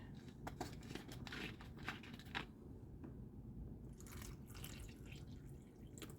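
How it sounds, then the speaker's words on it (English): Vinegar pouring and splashing steadily into a bowl of cucumbers, close by, with a few dripping spatters and no voices. "And then you just pour vinegar over it."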